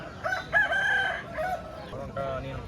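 Roosters crow loudly at a rooster market in Golla Mamidada, Kakinada district, one drawn-out call standing out over a crowded background of other birds and faint chatter.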